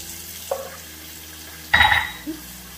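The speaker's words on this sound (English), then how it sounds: "Let's go ahead and put it in the sink. Some warm water." Warm water from a kitchen tap splashes into a sink over a Ninja Foodi Neverstick Premium pan, a short soft trickle followed by a louder burst of running water.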